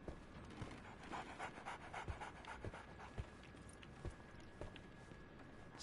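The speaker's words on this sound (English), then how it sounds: "So, Barnes has a dog now." A dog pants quickly and rhythmically in the Sherlock Holmes video game, the soft, breathy huffs continuing steadily for several seconds, faint and close, mixed with light footstep-like taps and no talk.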